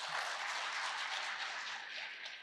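Steady, dense applause from a conference audience in a hall after a presentation at a college innovation forum, continuous and fairly distant, with no voices over it.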